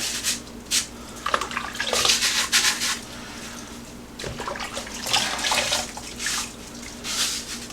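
Water runs and splashes over a pasta pot strainer as it is washed, coming in uneven bursts of spray and trickling between quieter pauses, close by with no talking.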